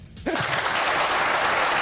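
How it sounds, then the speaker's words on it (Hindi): A studio audience bursts into applause for fans of the cricketer Amir, a quick spoken word giving way to dense, sustained clapping that stays loud to the end. "जितने आमिर के फैन हैं तालियां हो जाएं।"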